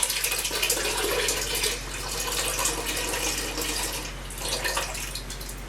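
Pineapple brine for smoking salmon is poured steadily into a container, making a continuous loud splashing, gurgling rush of liquid that lasts throughout.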